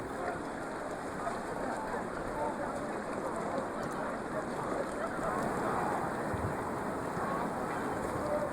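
Torrential rain pours steadily on the Amazon river in a dense, unbroken hiss across open water, loud and close throughout with no pauses, on Super 8 film from 1972.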